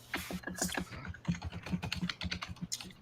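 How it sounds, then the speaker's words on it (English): Rapid typing on a computer keyboard, a dense run of quick uneven key clicks with short pauses, close and clear with no talking. "Who's typing 100 miles an hour?"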